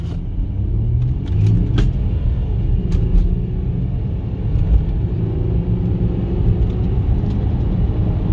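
A 2009 VW Touareg 3.0 TDI turbodiesel in sport mode accelerating hard to 100 km/h, heard from inside as a loud, continuous low engine rumble and road roar with brief shifts in pitch and no talking.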